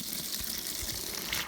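Water pouring from a tap into a container for pet pigeons, heard as a short, soft, steady gush and trickle.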